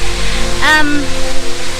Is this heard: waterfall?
yes